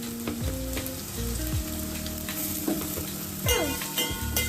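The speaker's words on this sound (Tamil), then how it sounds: "போட்டு லைட்டாக கொஞ்சம் வதக்கி விட்டுக்கோங்க." Steady sizzling and frying of onions and ginger in a hot pan, with occasional scraping stirs and clinks of a utensil against the pan.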